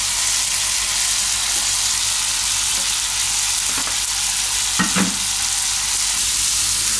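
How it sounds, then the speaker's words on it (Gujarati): Dal sizzles steadily in a hot pan, a constant loud frying hiss with a couple of brief stirring knocks partway through. "અને આ દાળ નાખી દઉં એમાં. અને થોડીક વાર પકાવી લઉં 2 થી 3 મિનિટ જેવું."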